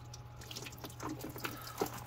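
Water poured from a bottle onto the front suspension of a Tesla, a soft irregular trickle and splash with a few brief drips, faint and close over a low steady hum.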